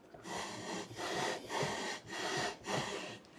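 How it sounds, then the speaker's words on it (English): Engine valve worked back and forth against its seat with lapping compound, a soft gritty rubbing in about five slow, even strokes, close but fairly quiet. "let's go ahead and get to lapping. So all we're gonna do is gonna work it back and forth."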